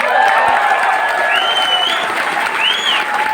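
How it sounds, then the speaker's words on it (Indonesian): Applause from an audience honouring people with disabilities who attended, a dense steady wash of clapping throughout with faint voices and whistle-like tones riding over it. "Saya kasih tepuk tangan buat mereka semua"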